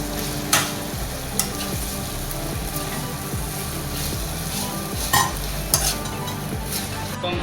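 Cooked noodles stir-fried with vegetables in a hot pan, a steady sizzle broken by repeated scraping strokes and occasional sharp clinks of the utensil against the metal, close and continuous.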